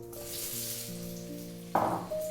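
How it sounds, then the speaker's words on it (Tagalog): Potatoes fry in oil in a wok, a steady close sizzle over background music, with a louder crackling burst near the end. "Ipiprito po natin yung ating patatas."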